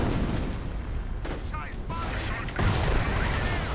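Artillery fire in a World War II real-time strategy battle, rumbling booms and crackling volleys layered densely throughout, with a commentator talking over the barrage.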